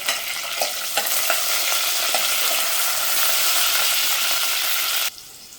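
Steady loud sizzling of ginger, garlic, curry leaves and green chilli frying in hot oil after mustard seeds, cumin and asafoetida, with a few scraping stirs, cutting off abruptly near the end.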